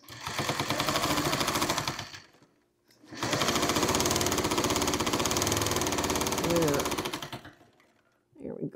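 A quilting sewing machine stitches a leader ender in two long bursts of rapid, even needle chatter, close and steady, separated by a brief pause, with a short faint sound at the very end.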